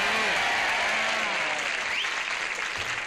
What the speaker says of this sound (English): Don't worry about that applause.